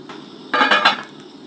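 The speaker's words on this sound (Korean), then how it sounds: "뚜껑 덮겠어요." A lid settles onto a cooking pot of slowly simmering dried pollack soup, giving a single short metallic clatter and rattle that fades quickly against a quiet kitchen background.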